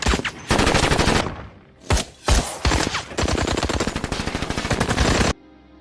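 A gunfire exchange erupts in a film battle scene between special forces soldiers and Taliban fighters. Rapid, loud machine-gun bursts rattle in long volleys broken by short pauses, with single heavy shots between them.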